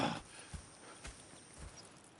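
Horses clip-clop at a walk in Red Dead Redemption 2, faint evenly spaced hoof thuds on the ground over a quiet ambient background.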